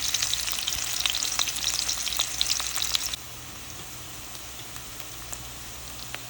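Onions frying in a pan give a loud, dense sizzle and crackle for about three seconds, then it suddenly falls to a soft, steady hiss.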